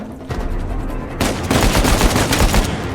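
Dense gunfire from the video game Uncharted 4: A Thief's End, a loud continuous fusillade of rapid, overlapping shots that intensifies after the first second and keeps up without pause.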